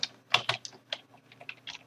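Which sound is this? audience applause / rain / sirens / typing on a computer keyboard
typing on a computer keyboard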